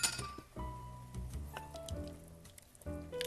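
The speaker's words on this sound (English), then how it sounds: "And I'm going to stir it up." Faint clinks and scraping of a spoon stirring a pot of leftover soup, with small irregular knocks and ringing taps against the pot, no talking.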